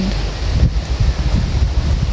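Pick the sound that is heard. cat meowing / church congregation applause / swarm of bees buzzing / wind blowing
wind blowing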